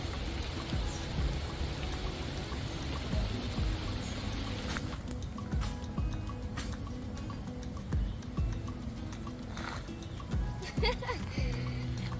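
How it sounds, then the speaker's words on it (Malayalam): Steady rain falls throughout, a dense wash of drops hissing on surfaces with occasional louder drips, fairly close and continuous. "മഴ പെയ്യാൻ തുടങ്ങി"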